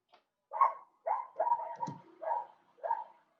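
Several dogs barking outdoors, a run of about five short, mid-pitched bark bursts with brief gaps between them, one lower growl-like yelp mixed in, fairly close and clear against a quiet background.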